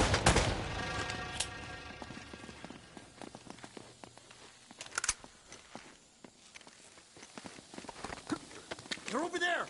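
Gunfire in the Uncharted remastered video game: sharp shots and short volleys crack out at uneven intervals, some loud and close, others fainter, alongside footstep-like clatter while characters talk over the action.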